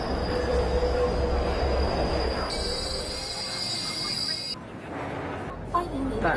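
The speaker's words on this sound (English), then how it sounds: "Taking the subway train is the only way he can be sure of arriving on time." A crowded Shanghai subway train runs at morning rush hour, a steady rumble and rattle of rail cars with a high electrical whine that later drops away, with voices murmuring in the background.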